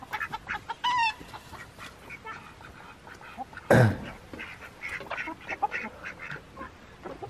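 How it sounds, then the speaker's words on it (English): Chickens cluck and squawk in a yard, with one sudden loud flapping burst mid-clip and scattered bird calls throughout. "You scaring the chickens?"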